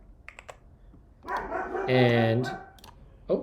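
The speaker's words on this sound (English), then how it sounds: "we've got a barking dog." A dog barks a few times indoors, one sustained loud bark standing out over light computer keyboard typing, with someone speaking briefly.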